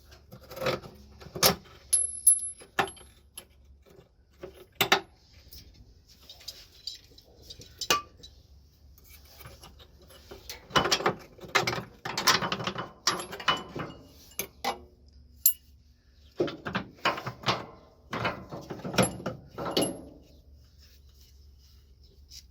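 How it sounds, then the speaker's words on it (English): Metallic clinks, clanks and jangling of wrenches and hardware while a bolt is worked loose from a Freightliner Cascadia cab mount, sounding as scattered close taps and bursts separated by quiet gaps. "So the mount's ready to be taken off. You just gotta remove that bolt."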